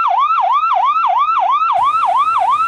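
A toy ambulance siren wails in a rapid, repeating rising-and-falling pattern, loud and close, with a brief extra buzz partway through.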